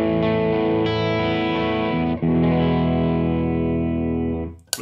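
Electric guitar, a stock 1981 Ibanez AS100 with humbuckers, played through a Marshall Blues Breaker overdrive pedal: sustained, gently driven chords ring loud and steady, with one brief re-strike midway, then fade at the end.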